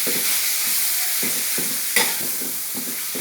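Pork stir-fried in a pan for a coconut-milk pumpkin curry sizzles loudly and close, with rhythmic stirring scrapes at regular intervals and one sharp clack midway, no talking.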